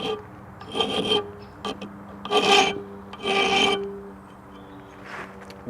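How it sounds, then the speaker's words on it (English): A softened steel file clamped in a vise is worked with another file, giving three or four distinct rasping strokes, close and fairly loud, with short pauses between and a fainter final pass, no talk. "So if we put it in the vise, we can try filing it for a start"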